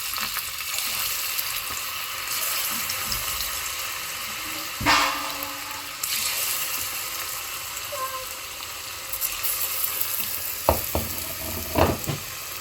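Spiced oil for chicken 65 sizzles and crackles steadily in a pan, close and continuous, with occasional stirring clatters and sharp pops.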